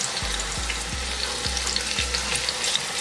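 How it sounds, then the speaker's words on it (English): Cut peppers sauté in a hot pan, a steady close sizzle with a few soft scraping stirs spaced through the clip, no voices. "So yeah, so I'm just gonna saute my peppers."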